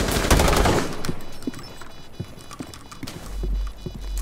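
A Fuze cluster charge detonates in Rainbow Six Siege with a rapid string of sharp, popping blasts, loudest at first and then scattered, smaller cracks and thuds continuing nearby.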